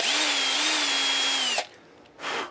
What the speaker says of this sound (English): the actual drill bit that I just used is 77 thou